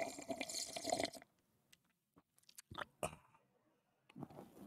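Close-miked sipping and slurping of an energy drink, a dense wet burst of mouth and liquid noise for about a second, then scattered small wet clicks and a final swallowing gurgle, with no talking.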